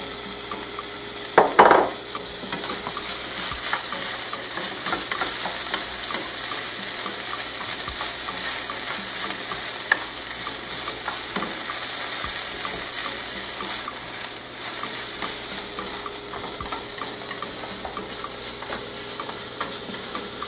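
Rice cooking in a pan with sprinkled curry powder gives a continuous low sizzle and bubbling, with a brief clatter of a utensil against the pan near the start, then steady frying.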